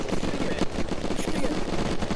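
Rapid gunfire from a helicopter in the BattleField RP video game rattles on without a break, a dense, loud burst of shots lasting a couple of seconds.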